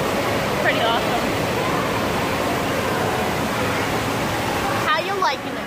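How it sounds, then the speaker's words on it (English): Noise inside an indoor water park with slides, a constant loud rushing hiss of splashing water with faint distant shouts and cries mixed in. "Guys, we're in the water park."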